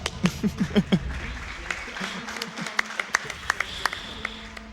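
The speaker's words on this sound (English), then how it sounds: "whoever clicked 1, you get a clap" At a 2018 speedrun marathon event, a live audience gives a short burst of scattered claps, strongest at the start. Game sounds and faint ticks continue underneath.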